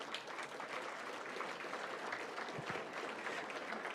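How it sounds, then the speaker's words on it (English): An audience at a mayoral debate in Cincinnati applauds steadily, with a dense crowd clatter of clapping that fills the room at an even level from start to finish. "Give yourselves a round of applause."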